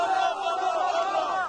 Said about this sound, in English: anti-war protests by crowds in Gaza